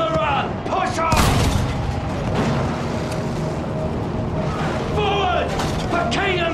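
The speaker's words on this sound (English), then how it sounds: "Use that machine gun, mow them down!" Machine gun fire and booming explosions on a Battlefield 1 battlefield crackle and thud loudly in bursts, mixed with shouted voices.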